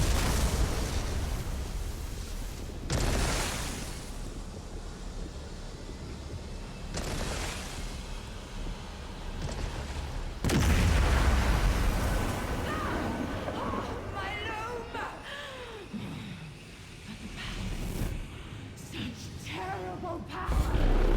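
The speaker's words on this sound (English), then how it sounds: "Use Abolisher to destroy the loom." A heavy magical blast from the Abolisher destroying the loom in the video game Elder Scrolls Online, booming impacts and rumbling eruptions over a lingering ambient drone.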